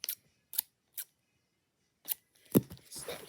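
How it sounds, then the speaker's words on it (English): Scissors snipping open a fidget toy pack, several short, sharp, close snips with pauses between, ending in crinkly rustling of the packaging, and no talking. "Snip, snip."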